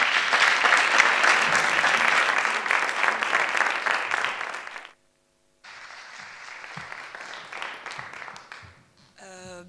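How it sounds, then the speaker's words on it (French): Loud applause from an audience fills the first five seconds, stops briefly, then a second round of clapping follows before fading out. "donc avec des applaudissements."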